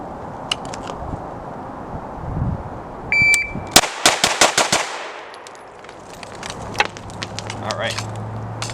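Rapid string of sharp pistol shots from a P320 with an X01 PDW conversion chassis during a shooting drill, about half a dozen close, loud cracks in quick succession, with a few scattered clicks and noises around them.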